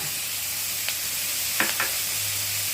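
Green chillies and chopped garlic sauté in oil for a chickpea curry masala, giving a steady soft sizzle with a few brief stirring scrapes partway through, fairly faint and without talk.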